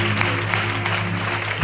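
A church youth revival congregation clapping together, dense sustained applause filling the room for a short moment, with a faint voice underneath.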